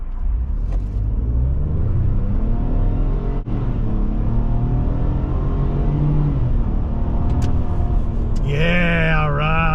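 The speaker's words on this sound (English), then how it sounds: "we'll try a proper 0 to 60 here if nobody comes behind me" A 2023 Ford F150 XL Rattler 4x4 accelerating hard from a standstill, its engine a loud, continuous rising drone heard from inside the cab, with a higher revving whine near the end.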